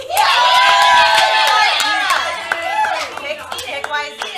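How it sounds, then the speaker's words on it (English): A live game show crowd cheers loudly with shouts, whoops and some clapping, strongest at first, then easing into scattered voices and claps. "Cheer them on."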